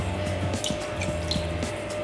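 Beefeater gin and Benedictine poured for a cocktail, a close, soft trickle of liquid with small glugs and drips repeating irregularly.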